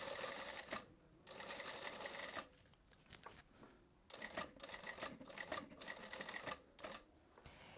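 A sewing machine stitches along a blouse neckline in several bursts, each running steadily for a second or two, with short pauses between them. The machine sounds fairly quiet and close, and nobody talks.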